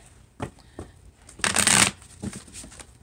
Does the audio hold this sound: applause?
no